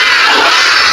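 Children at an Islamic storytelling event shout together in a loud, sustained group response, one dense burst of young voices filling the whole moment.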